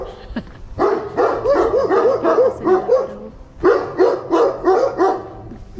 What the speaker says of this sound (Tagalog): Kung naririnig nyo yung mga aso.